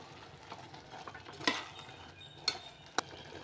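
Quiet stirring of vegetable kurma in a pot, with a few distinct clinks of a spoon against metal over a faint simmer.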